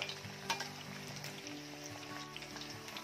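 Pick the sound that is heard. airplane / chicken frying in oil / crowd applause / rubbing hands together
chicken frying in oil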